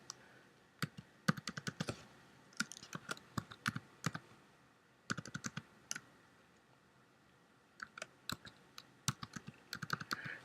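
Someone types on a Mac laptop keyboard, quick bursts of close, crisp key clicks separated by short pauses, quiet and alone with no talking.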